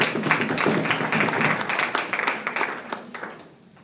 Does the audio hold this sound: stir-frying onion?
no